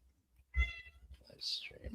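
A cat meows for attention, two short, fairly faint calls about a second apart, close by, with quiet voices in the room around it.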